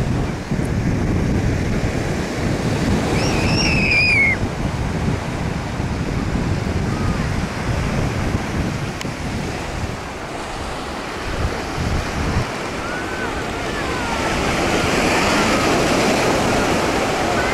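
Cold wind gusts steadily across the microphone by the sea, with surf rumbling low beneath it; brief gull cries sound early on, and no one speaks.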